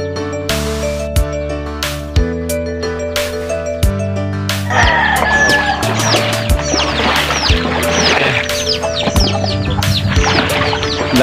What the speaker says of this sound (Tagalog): magpapakain naman tayo natin mga alagang chicken manok at saka mga pato